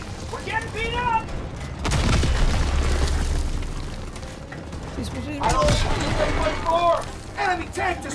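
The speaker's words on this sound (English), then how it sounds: "Enemy tank destroyed!" Loud explosion of a German Panzer tank being destroyed in a Call of Duty: WWII battle, a heavy boom around two seconds in followed by a second burst later, amid gunfire and game voices shouting.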